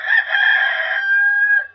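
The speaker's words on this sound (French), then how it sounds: "un sonore et puissant cocorico" A farmyard rooster gives a single loud, close cock-a-doodle-doo at sunrise from atop a fence, a sustained bright crow held steady to the end, with no other sounds.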